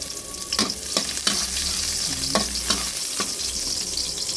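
Garlic sautés in a hot wok, a steady close sizzle broken by several sharp stirring scrapes and clinks of a utensil against the pan, no talking.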